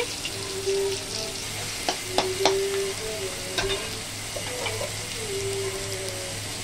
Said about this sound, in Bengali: এবার ওই তেলের মধ্যে রসুন দিচ্ছি।